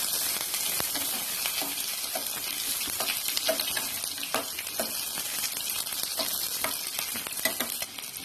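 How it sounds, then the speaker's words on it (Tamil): Small onions sauté in hot oil with chillies and curry leaves for a bottle gourd kootu, giving a steady close sizzle and crackle with occasional stirring scrapes throughout. "ஒரு 5-6 சின்ன வெங்காயத்தை போட்டு நல்லா வதக்கிக்கலாம்."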